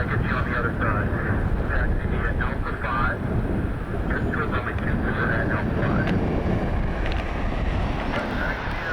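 Boeing 737 jets taxiing at an airport, a loud broad steady jet roar with wind buffeting on the microphone, a continuous rumbling wash without pauses.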